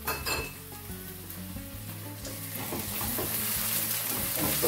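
Ginger and garlic are stirred in a frying pan: a close sizzle under repeated scraping and clinking of a utensil against the pan, with no talk.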